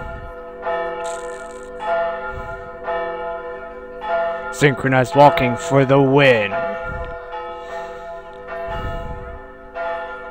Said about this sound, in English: Them bells, they remind me of Silent Hill.